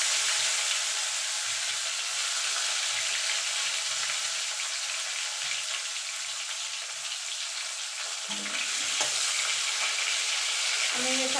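Black cumin seeds and tomatoes hiss and crackle steadily in hot oil for a vegetarian ash gourd dish, the sizzle continuous and close with a few brief pops near the end and no talking.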